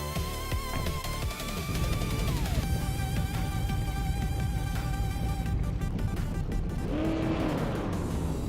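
Vintage racing cars, among them a 1938 Talbot and a Porsche, roar off the line at the Autodromo de Antioquia race start in a video game, with loud layered engine drones, rising revs and gear shifts that hold steady throughout.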